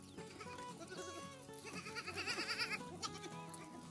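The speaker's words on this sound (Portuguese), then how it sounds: "O berradinho é bonito demais, viu?" A herd of Boer goats in the Bahia backcountry bleats in overlapping calls, many voices near and far crying over one another in a dense, continuous chorus that swells toward the middle.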